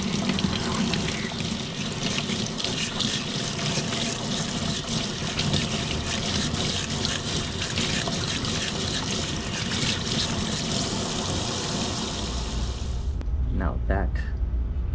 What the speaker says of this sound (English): All right, so we're just gonna wash this out. There's a decent amount of sediment in here.